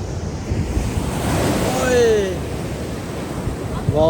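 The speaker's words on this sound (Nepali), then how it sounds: "समुद्रको छाल यहाँ आइछ" Ocean waves break on a Sydney, Australia shore, a steady roaring wash that swells toward the middle with heavy wind rumble on the microphone and a few faint high tones.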